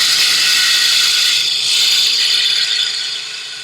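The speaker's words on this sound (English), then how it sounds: "I'm going to take, gouge the bulk, remove the bulk of the material." A hand gouge carves the bulk of the wood out of a lidded box, a dense, steady scraping and chattering that stays loud and close for the whole stretch, with no talking.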